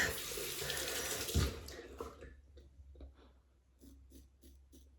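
Water runs from a sink tap while a 1961 Gillette Fat Boy safety razor is rinsed beneath it, a steady close splashing that cuts off partway, leaving faint clicks and small rustles in a quiet room.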